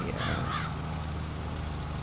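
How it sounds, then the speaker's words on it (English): Crows caw in the game Farming Simulator 22, a couple of short harsh calls early on over a steady low engine-like drone from the game. "Sounded like more than one crow."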